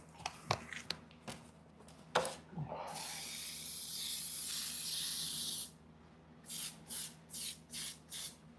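An airbrush sprays paint onto cardboard for an RC10 Worlds car body: a few clicks and taps, then a long close hiss of about three seconds, followed by six short evenly spaced spray bursts.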